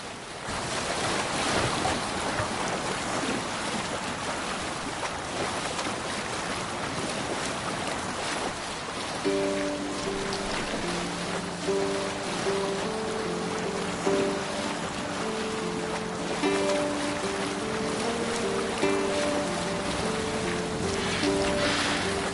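A Viking longboat at sea in Assassin's Creed Valhalla, steady wash of waves and wind against the hull that continues throughout, with sustained musical tones joining partway through.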